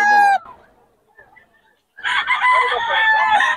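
A rooster crows amid the poultry stalls of a chicken market in Bocaue: a short, loud call at the start, a near-silent pause, then a longer, strong crow with busy clamor from around two seconds to the end.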